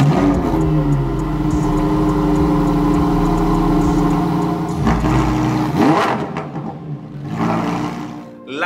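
A Lamborghini Huracan EVO's naturally aspirated V10 revs repeatedly, loud and close, with sharp blips rising and falling, then settles toward idle and revs again near the end.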